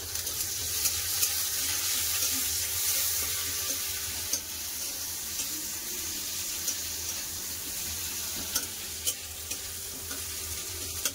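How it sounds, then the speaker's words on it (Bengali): Chopped onions fry steadily in hot oil with bay leaf and whole spices, a continuous close sizzle with faint scattered crackles, no talking. "কেটে রাখা পেঁয়াজ দিয়ে দিলাম"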